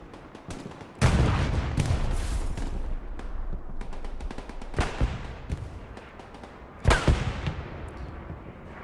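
An anti-tank gun firing rounds in a chaotic multiplayer war game, a few heavy loud shots spaced seconds apart, each a sharp crack with a ringing tail, amid lighter scattered gunfire.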